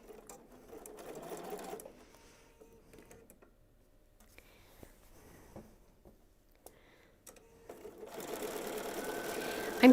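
Sewing machine stitching a quilt backing, a steady mechanical whir in two stretches at the start and end, fairly quiet and close, with a soft lull in between.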